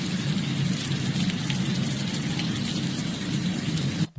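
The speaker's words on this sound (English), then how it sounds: "water running down the streets" Floodwater in Spain runs down the streets with a constant, dense rushing hiss that fills the whole stretch without pause and cuts off abruptly at the end, with no talking.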